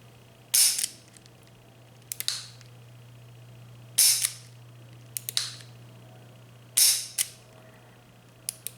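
A Taurus 837 revolver is dry fired in single action. Sharp, close metallic clicks come in pairs at regular intervals: a short cocking click, then a loud hammer snap a few seconds later. The pattern repeats three times over a faint steady hum.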